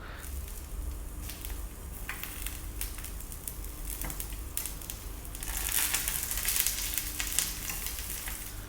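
Eggplant slices fry in a small amount of oil with a steady, faint crackling sizzle that grows a little busier toward the end, heard alone without talk.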